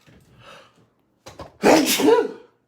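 A single loud, close human sneeze bursts out after a soft breathy intake and a short catch, ending abruptly in silence.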